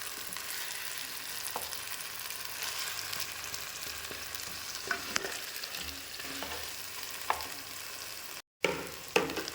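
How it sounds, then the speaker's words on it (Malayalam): Eggplant sautéing in oil in a clay pot, a soft, steady frying hiss with occasional light spoon taps and scrapes, quiet and close, with a brief dropout near the end. "അതിൽ കിടന്ന് വഴണ്ട് വരികയാണ്"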